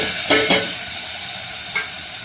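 Onions and green chillies sauté in hot oil with dried fish, a steady close sizzle broken by a few brief stirring scrapes and no voices.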